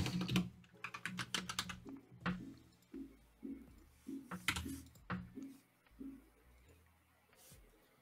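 Close computer keyboard typing while writing JavaScript code, with quick bursts of clicks at the start and then scattered single keystrokes and pauses.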